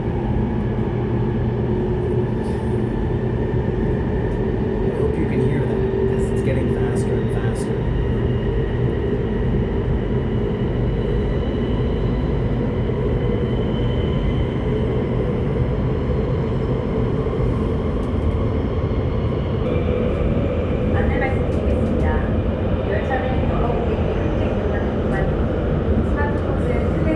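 A GTX-A express subway train runs at speed, a steady loud roar and rumble of wheels and motors filling the cabin throughout, with a voice talking over it.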